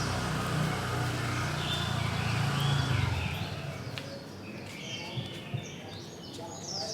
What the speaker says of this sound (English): I like the sound of the birds